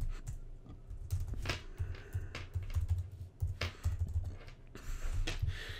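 Close, crisp keystrokes clatter in irregular bursts on a computer keyboard, with short pauses between runs of tapping and no voices.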